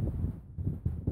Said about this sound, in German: Der Wind ist da brutal.